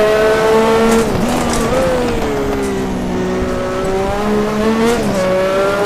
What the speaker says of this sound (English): Wheel spin, man,